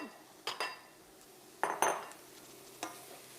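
Omelette mix being scraped from a pan into a bowl, heard as a few sharp utensil scrapes and clinks against cookware, spaced irregularly with quiet gaps between.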